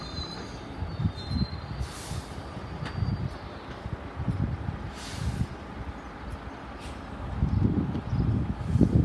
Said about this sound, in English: this is for the 12:24 1 Whiskey 56 Transport for Wales service from Carmarthen to Manchester Piccadilly